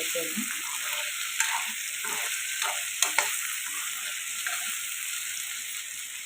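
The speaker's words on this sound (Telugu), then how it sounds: "ఇలా బంగాళదుంపలు ఫ్రై అవుతున్నాయి కదండి" Potatoes and carrots with turmeric frying in a pan, a steady close sizzle with occasional scrapes and clicks of a spoon stirring, no voices.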